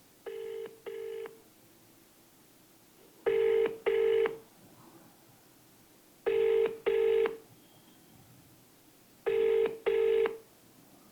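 An outgoing phone call rings unanswered, with four evenly spaced pairs of loud, close ringback tones separated by quiet pauses.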